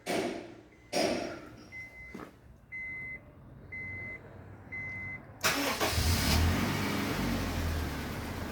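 A 2012 Honda Civic with keyless push-button start gives a few short electronic beeps, then its engine fires up with a thud and settles into a steady, close idle rumble.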